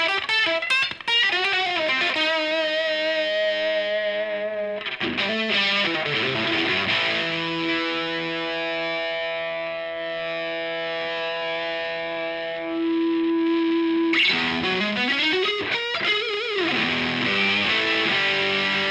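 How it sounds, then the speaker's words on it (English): Electric guitar played through an octave-up fuzz distortion pedal, with loud sustained chords and ringing notes thick with buzzy harmonics. Long decays are cut by new strummed attacks. "it's a distortion pedal with an octave up"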